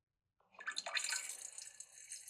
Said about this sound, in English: it was me peeing.